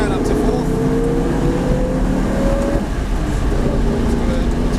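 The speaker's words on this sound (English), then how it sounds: "pick up the throttle at the green cone, straighten the car up on the exit. Rev third gear out up to fourth" A V8 Supercar at Norwell Motorplex roars loudly from the cabin as it revs out third gear and climbs into fourth, the engine note rising in steady sweeps under an instructor's talk.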